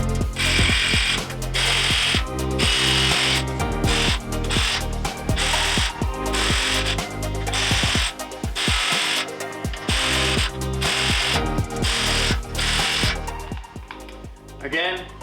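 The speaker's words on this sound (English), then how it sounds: "3 is to attach the crossbars and to tighten the bolts." Ratchet tightening crossbar bolts on a Jeep Gladiator roof rack, loud close bursts of rapid clicking strokes repeated in a steady rhythm with brief pauses, while a person talks throughout.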